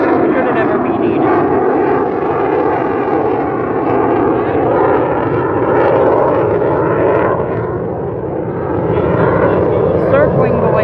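An F-22 Raptor fighter jet flies over the Chicago lakefront at an airshow, a loud continuous roaring rumble that swells and eases slightly, with an announcer talking over it.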